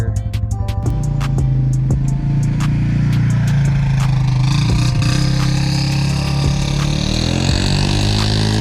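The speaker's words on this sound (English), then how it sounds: "it's an MDRP muffler. I'll pull it out here, you guys can hear it here." A Polaris Sportsman 570 ATV with an MDRP aftermarket muffler idles and revs, a loud steady exhaust drone with a deep throaty tone, rising pitch as it revs and falling back, close and continuous.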